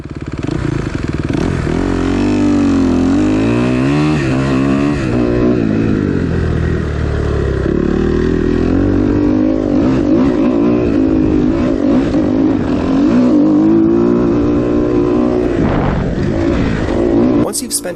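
Kawasaki KX250 250 motocross dirt bike riding an oval track with tabletop jumps, its engine loud and close, revving up and down through gear changes the whole way, with a voice talking over it.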